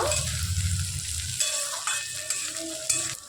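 Carrots and tomato stirred in a frying pan make a steady close sizzle, with scraping and soft knocks of the spoon against the pan.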